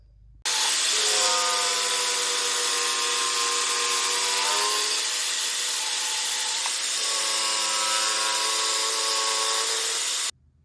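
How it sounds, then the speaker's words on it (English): A homemade thickness sander grinds rough-cut lumber down into guitar body blanks, giving a loud, steady motor whine over abrasive hiss. The pitch sags partway through as the wood passes under the drum, then the sound runs on before stopping. "I've been running them through the thickness sander."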